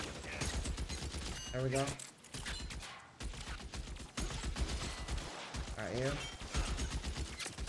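Assault rifles fire in L.A. Noire, with repeated bursts of sharp, loud shots crackling throughout and someone speaking briefly between them.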